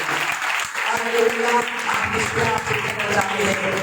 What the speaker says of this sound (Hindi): जोरदार ताली बजाएं खुदा के लिए।